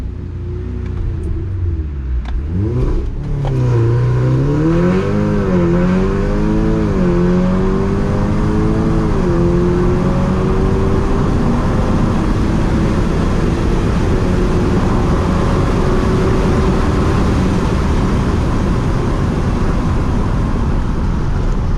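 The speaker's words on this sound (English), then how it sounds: "I'm just gonna drive down the strip in Mexico really quickly" A car fitted with an FSI/TFSI high-pressure fuel pump piston upgrade accelerating hard down a strip in Mexico, the engine note climbing through several gear changes, then settling into a loud, steady cruising drone with road rumble.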